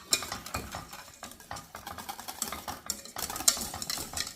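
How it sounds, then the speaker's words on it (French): A whisk beats pastry cream in a saucepan over low heat, a fast, scratchy rhythmic scraping and tapping against the metal pan, close and fairly quiet with no talking. "Au début, vous mélangez énergiquement et après, tranquillement, et jusqu'à ce que le mélange épaississe."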